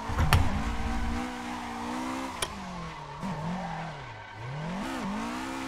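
Toyota AE86 drift car on the Fast and Furious Tokyo Drift track, its engine holding a steady high drone that dips and surges with clutch kicks, with a short burst of tire squeal at the start.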